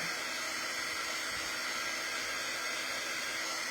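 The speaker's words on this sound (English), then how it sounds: "The reason I'm drying it is so I don't disturb the paste that's already on there." A hair dryer blows steadily as it dries transfer paste on a decorative tiered tray, a constant close, loud airy whir with no pauses.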